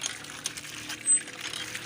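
Water gushes and splashes from an outdoor hand pump used for rinsing laundry, a continuous close pouring sound with small irregular surges.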